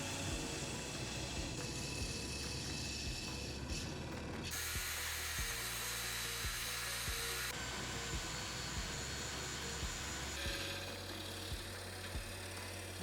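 A wood lathe spins while a tool shapes the outside of an ash hollow form, producing a steady whirring hum with a scraping hiss that shifts in intensity as the cut changes, with no talking.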